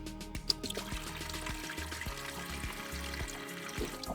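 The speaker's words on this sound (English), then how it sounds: "So the pump has quite a strong PSI, so it's quite a lot of water that's coming out" Water gushes from a strong campervan pump in a steady, close pour with a rippling, splashing texture and no voices.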